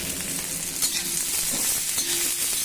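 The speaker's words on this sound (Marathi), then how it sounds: "कांदा भाजून घेतला." Onion roasts in a pan for a village-style Maharashtrian amti, giving a steady close sizzle with faint stirring scrapes throughout and no talking.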